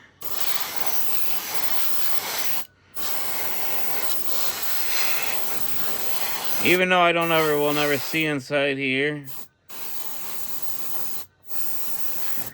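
An aerosol spray can hisses in repeated bursts, spraying paint onto a 1972 Chevy Fleetside model truck, with short gaps between sprays; someone speaks briefly in the middle.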